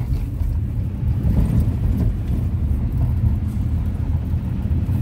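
A car is driven fast and hard, giving a loud, unbroken engine and road rumble with heavy wind buffeting across the microphone, steady throughout with no voices.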